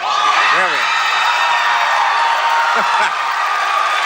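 A lively late-night talk show studio audience cheers and whoops loudly and continuously, with a few higher shouted whoops rising out of the steady crowd roar.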